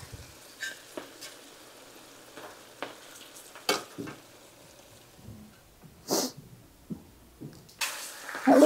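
Squash browning in a hot skillet gives a low, steady sizzle with scattered soft pops and crackles, close by and fairly quiet, with a few sharper bursts toward the end.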